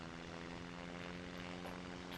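A slow-moving propeller plane in a flight simulator game drones steadily, a continuous low engine hum with tonal buzzing, unbroken and moderately quiet.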